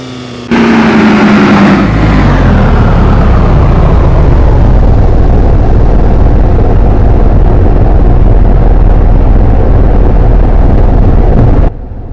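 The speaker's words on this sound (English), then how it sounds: "The off-road has some serious engine sound problems." Off-road vehicle engine in the DayZ video game, a loud, constant roaring drone that starts abruptly, holds steady and heavy for about eleven seconds, then cuts off sharply.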